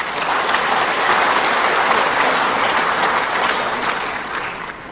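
Dense applause from a large audience at an Indonesian political speech, a continuous loud roar of clapping that holds steady and then tapers slightly toward the end.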